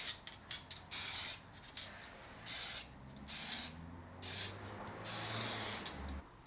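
Aerosol spray paint hisses in short bursts as light coats of silver are applied to motorcycle trailer parts, several one-second sprays with pauses between them, fairly quiet and close, with faint background hum and no talk.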